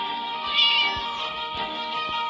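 A cartoon cat in the Scary Teacher video game meows in a drawn-out, whiny call, close and clear with a few soft thumps beneath.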